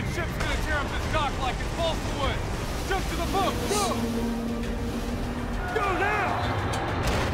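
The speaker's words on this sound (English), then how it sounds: "Storm's about to hit." A storm rages over open water in Call of Duty Black Ops 3, with roaring wind, surf and a boat engine forming a dense wash, while voices talk over the top.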